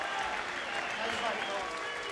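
A boxing crowd applauds steadily after a 12-round fight between Michael Nunn and John Scully, a dense, even roar of clapping heard from the arena with a commentator talking over it.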